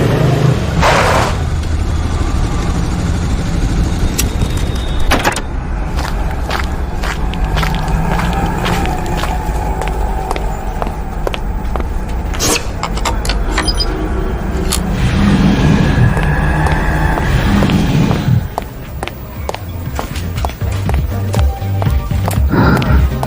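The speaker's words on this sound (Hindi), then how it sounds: "बिना वक्त गंवाए बाइक दौड़ा दी" A motorcycle sound effect, the bike ridden away at speed, loud and close, with engine roar and passing whooshes, then a sharp drop in level near the end.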